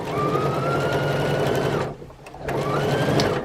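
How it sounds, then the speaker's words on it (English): A sewing machine stitches a jelly roll quilt with a steady, loud, close mechanical whir that stops for a brief half-second pause and then starts up again. "sometimes this machine, it is so quiet that sometimes I think it is not sewing"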